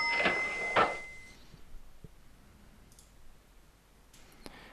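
Two sharp mouse clicks land in quick succession on the OK Fly Now button of an Air Hauler flight simulator setup. Quiet room noise and a few faint ticks follow.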